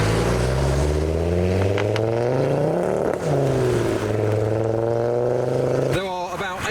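A modified Ford Focus ST pulls away from a car show in heavy rain, its engine note rising through several gear changes, loud and close, with a rough burble at the end.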